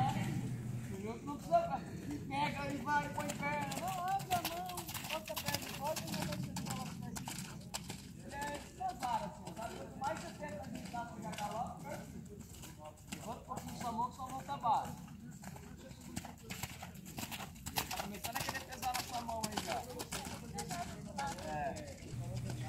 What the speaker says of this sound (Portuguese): boa partida ao galope, com a cabeça no lugar